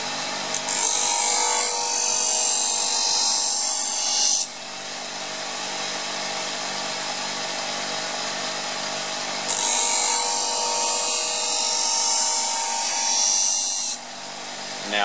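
A knife blade is ground on a powered sharpener, giving a loud, harsh grinding whine in two long bursts separated by a steadier, lower running hum of the machine.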